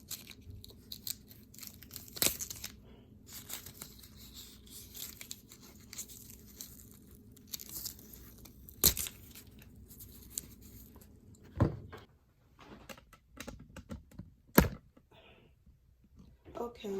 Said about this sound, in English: I'm going to take some tape and tape this part